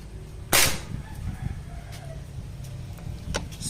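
A Taurus PCP air rifle fires a single sharp, loud crack, followed by a faint report of the pellet striking downrange, with low background noise and no talk.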